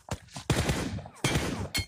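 Gunshots from a video game ring out in four sharp, loud bursts, each a quick crack with a short rattling tail, spaced unevenly over about two seconds.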